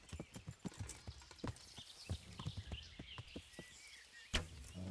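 Hooves of a horse in the medieval video game Kingdom Come: Deliverance, a quick irregular clip-clop of galloping footfalls that sounds close and steady, with one louder thump near the end.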